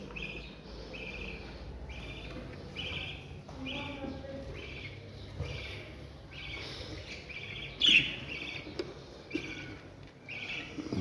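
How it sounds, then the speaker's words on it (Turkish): Small birds in a breeding facility give repeated bright chirps in quick bursts, fairly faint against a low background hum, with a sharper squawk near the middle. "Görmüş olduğunuz gibi sağlıklı kuşlar."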